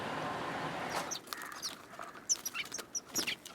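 Wild birds captured by trappers give several short, sharp chirps and calls in quick succession, close by over a low background hum.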